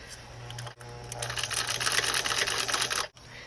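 Sewing machine running a long stitch along the hem of a chiffon wedding dress, a steady close mechanical whir with dense rapid ticking that starts, runs for about two seconds, and stops briefly twice.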